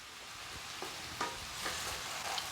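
Soaked sabudana stirred in a pan while making sabudana khichdi, giving a soft steady sizzle with a few light scraping strokes of the spoon, close and quiet, no talking.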